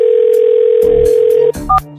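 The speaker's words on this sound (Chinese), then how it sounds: "洪大祥，打电话什么事？" A telephone dial tone heard during a phone call holds one steady, loud pitch for about a second and a half, then cuts off into short electronic beeps and clicks.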